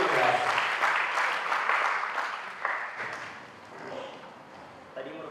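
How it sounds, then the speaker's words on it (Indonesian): A crowd applauds steadily, the clapping thinning out toward the end as a voice talks over it. "kita beri tepuk tangan sekali lagi"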